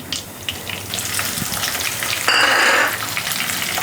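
Green chillies dropped into hot frying oil in a pan, a steady low sizzle that suddenly flares into a brighter, louder hiss for about half a second and then settles back to a softer fry, close by with no talking.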